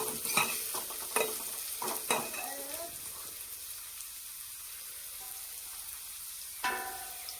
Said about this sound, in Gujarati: પછી શું ડુંગળી નાખવાની છે. સારી રીતે મિક્સ કરવાની છે.